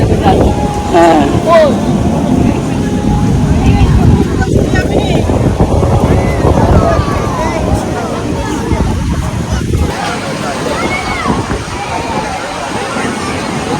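Sea waves roll in at Digha beach with strong wind buffeting the microphone, a loud continuous rush and wash close by, while people talk over it.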